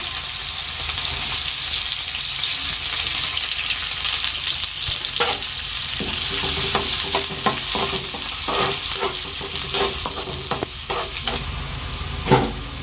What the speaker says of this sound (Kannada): ಅರ್ಧ ಸ್ಪೂನಷ್ಟು ಜೀರಿಗೆ ಸಾಸಿವೆ ಜೀರಿಗೆ ಚಟಪಟ ಅಂತ ಹೇಳಕತ್ತವ್ರಿ ಉಳ್ಳಾಗಡ್ಡಿ ಹಾಕೊಂಡ್ಬಿಡ್ತೀನಿ